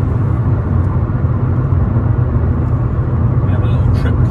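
The engine of a 2018 Fiat 500 Lounge with a 5-speed gearbox gives a loud, steady low rumble while the car accelerates cleanly on a test drive, with a voice faintly audible over it.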